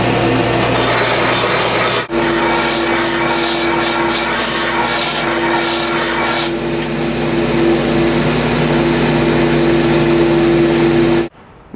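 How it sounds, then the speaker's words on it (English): A belt sander grinds down the wooden braces of a guitar top, producing a loud, steady mechanical drone with a humming motor tone that holds continuously for several seconds, with no speech. "I'm just going to do it on the belt sander"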